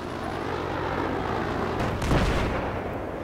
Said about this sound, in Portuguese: Uma explosão aqui.